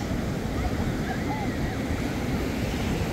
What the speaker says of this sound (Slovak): Aha, tam tie vlny nádherné, no krása.